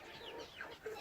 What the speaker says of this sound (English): mostly just to get away from the noise of those blooming roosters